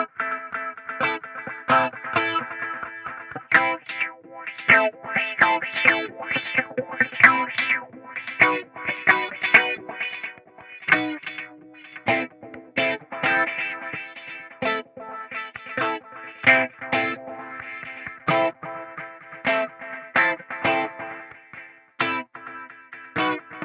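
A distorted synth line pulses in short rhythmic bursts, its tone sweeping as an LFO wobbles the filter, with delay echoes trailing behind each note.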